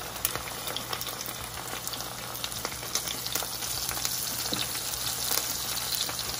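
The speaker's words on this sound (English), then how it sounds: "let that heat up and then I'm gonna put my salmon in here and season it" Salmon frying in hot oil in a home kitchen pan, giving a steady close crackling sizzle with scattered sharp pops throughout, no talking.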